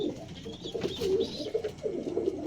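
Teddy pigeons coo in low, repeated throaty phrases close by, a steady murmuring run of calls with no talk.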